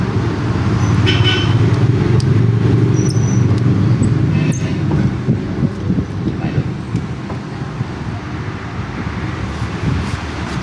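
Road traffic passing a roadside house, a continuous broad rumble of cars and buses with brief horn toots early on, steady and fairly loud, easing slightly in the second half.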